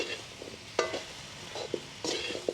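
Cubed potatoes and kohlrabi fry in a pan over a wood fire, a soft continuous sizzle punctuated by a few sharp scraping stirs and clicks of a utensil, close and fairly quiet, with no talking.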